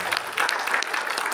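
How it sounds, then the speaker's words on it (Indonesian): A church congregation at a Sunday service in Melbourne bursts into loud, dense applause, a continuous wash of many hands clapping close and steady. "Tepuk tangan buat Tuhan."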